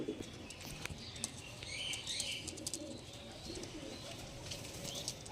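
Black diamond pigeons coo softly in their loft, with repeated low coos and some chirps and wing flutters mixed into a busy, moderately faint background.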